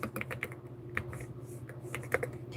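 Keys on a computer keyboard are tapped in quick irregular bursts, close and fairly clear over a low steady hum, with no voices.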